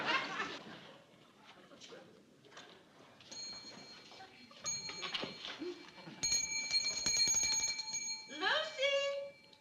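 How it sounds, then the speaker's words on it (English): A small hand bell rings insistently, several bright metallic trills ringing out loudly in the latter part, amid voices and indoor room sounds. "every time she rings that bell"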